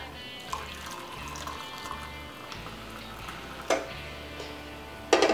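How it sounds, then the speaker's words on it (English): Stock poured into a mug in a home kitchen, a steady liquid stream running for several seconds with a couple of sharp clinks near the end. "And we're just going to pour it into a mug."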